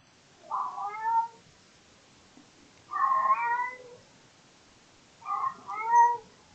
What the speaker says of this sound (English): Hopefully my cat is not too distracting. I'm not sure if the microphone is picking her up or not. She's playing with her toy.